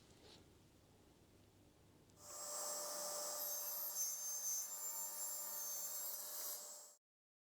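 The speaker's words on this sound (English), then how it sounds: "Now I've made the first cut on all of them with an angle of 35 degrees." A circular saw makes an angled 35-degree cut through wood for an end-grain cutting board, a loud, steady whine that holds for several seconds after a quieter start and then stops abruptly.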